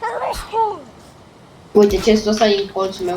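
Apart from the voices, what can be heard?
sneeze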